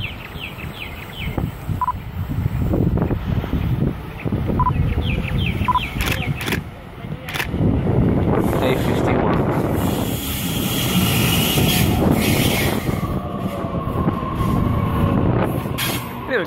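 A train arriving at North Strathfield station in Sydney, a long rumbling approach with hissing brakes, squeals and clanks building and staying loud near the platform, no talk.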